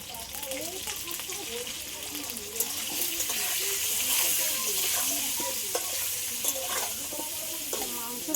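Potatoes frying in oil with salt and turmeric, a steady bright sizzle with occasional stirring clinks as the pieces are turned, while a voice talks underneath throughout.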